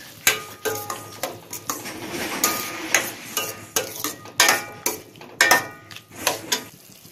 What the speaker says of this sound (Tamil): நல்லா வதக்கி விடலாம்.